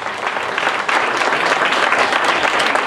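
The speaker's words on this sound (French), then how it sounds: "On peut l'applaudir." An audience at a French children's charity association event gives loud, continuous applause, a thick, even rush of clapping that swells a little after the first second.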